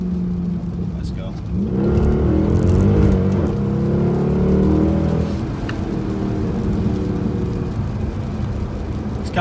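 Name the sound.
car engine accelerating in the rain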